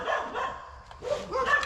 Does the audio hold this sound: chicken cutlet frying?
no